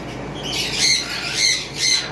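Pet lovebirds or cockatiels kept for sale squawk in three loud, shrill bursts, evenly spaced over a steady background hiss.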